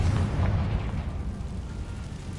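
A Confringo fire spell in Hogwarts Legacy bursts with a heavy, rumbling explosion, low and booming for the first half second and then rolling into a sustained roar that fades only slightly, with no talk over it.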